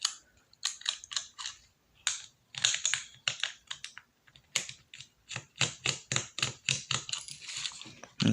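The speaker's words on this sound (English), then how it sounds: "I'm going to go ahead and remove these 2 screws" Small screws being removed from a plastic control unit box on a Tamiya 1/14 semi tractor truck, a close run of light clicks, ticks and small plastic taps in irregular bursts.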